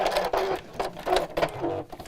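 A domestic sewing machine quilting at a stitch length of 3 runs in short bursts, its rhythmic mechanical chatter close and clear.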